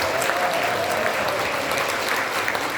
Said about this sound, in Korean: 여러분 우리 유동열 박사한테 한번 큰 박수 좀 격려 박수 좀 부탁드립니다.